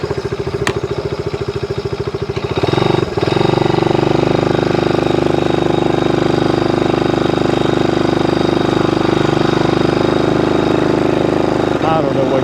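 A motorcycle with 3,300 miles on it sets off on a test ride, its engine first chugging with a rapid, pulsing idle, then settling into a louder, steadier running drone close by.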